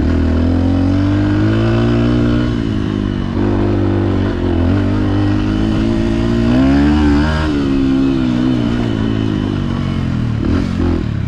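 A Beta 125 motorcycle engine revs loudly and close by, its pitch rising and falling in continuous throttle blips with no speech over it.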